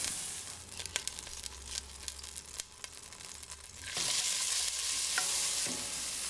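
Softened vegetables scraped from a board into a pan, with close scraping and crackly clicks, then a louder steady sizzle as they begin to cook down, with no talking.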